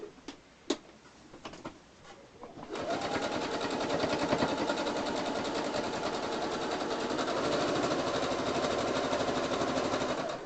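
Home sewing machine stitching pillows made from tea towels: a few soft clicks and taps first, then the motor kicks in and runs fast and continuous with a rapid rattling needle rhythm, close and steady to the end.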